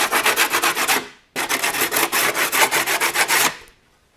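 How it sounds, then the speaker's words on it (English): Close, rhythmic hand sanding of a fiberglass car headliner with sandpaper, quick back-and-forth rasping strokes in two bursts separated by a short pause. "just give it a quick sanding."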